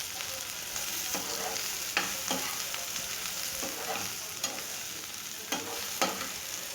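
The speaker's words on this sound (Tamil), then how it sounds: "அப்படியே எண்ணெயில் கலந்து விட்டுட்டே இருக்கலாம்" Okra (lady's finger) with turmeric powder is stirred in hot oil, giving a continuous bright sizzle broken by repeated spatula scrapes and clicks at a loose, unhurried rhythm, with no speech.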